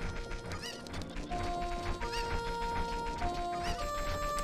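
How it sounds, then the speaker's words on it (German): Clucking of a Cucco chicken in a Zelda Ocarina of Time hack, short repeated clucks over looping game music and sound effects. "Doch, ich höre eins. Ich höre ein Huhn."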